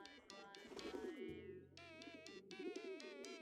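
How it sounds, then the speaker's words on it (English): Pigeons coo in the video game Hiveswap, soft repeated throaty calls in a quiet scene, with the cooing phrases rising and falling across the short stretch. "I keep hearing pigeons and I'm not happy about it."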